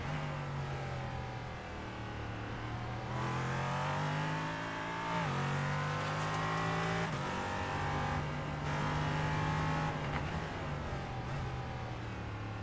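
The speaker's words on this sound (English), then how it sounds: "you heard a downshift out of the 420" LMP3 prototype race car in a racing video game at the Algarve circuit, its engine note climbing and dropping sharply through repeated downshifts and revs, loud and continuous with no talk.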